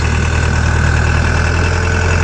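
A Dongfeng 404 tractor (2024 model) with a mounted disc seeder, its engine running steadily and loudly up close while sowing winter wheat, a constant low diesel drone with no talk.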